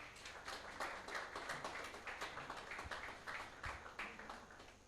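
An audience at a live-streamed panel event giving a round of applause to welcome a panelist, with fairly quiet, steady clapping from many hands that rises and falls in small pulses across the whole stretch, heard from a distance without voices.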